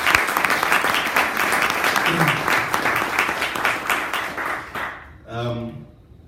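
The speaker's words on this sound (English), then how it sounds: "Let's give her a round of applause for being here tonight." Audience applause for a guest at a climate action talk, steady rapid clapping that stops abruptly near the end, followed by a voice speaking.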